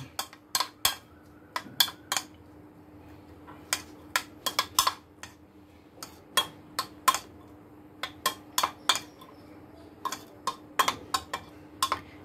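Masala ingredients for Maggi noodles mixed in a bowl: a utensil clinking repeatedly against the dish in quick irregular bursts, fairly close and clear over a quiet background.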